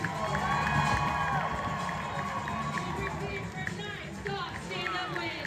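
Crowd cheering and shouting as paratroopers land during a military graduation ceremony. A dense, continuous outdoor roar of voices with scattered higher shouts runs throughout at a fairly steady level.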